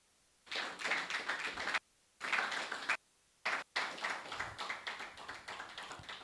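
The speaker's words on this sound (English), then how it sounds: "a round of applause for." Seminar audience applauding in several short, quiet bursts of dense hand clapping separated by brief silences, heard at a distance with no speech.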